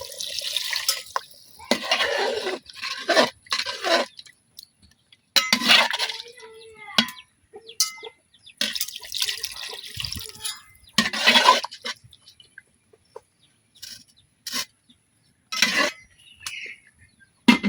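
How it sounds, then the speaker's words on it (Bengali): Broth poured into a chicken and taro (kochu) curry after long sautéing, giving intermittent watery splashing and trickling bursts, fairly close and moderately loud, with short pauses between pours. "এখন দিয়ে দিতেছি পরিমাণ মতো ঝোল।"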